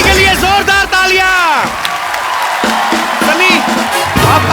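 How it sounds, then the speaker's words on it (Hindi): A studio audience at a television comedy show claps and cheers, a loud crowd roar of applause and whoops that follows a voice and music, with voices carrying over it. "लगाता सनी के लिए जोरदार तालियां"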